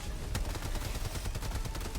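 A minigun fires in a video game, a dense rapid rattle of gunfire with sharper bursts punching through, loud and continuous throughout.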